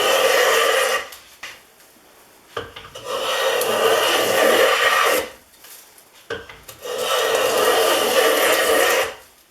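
Stanley No. 5 hand plane with a cracked throat taking thick shavings from walnut, three long rasping strokes separated by short pauses, close and loud.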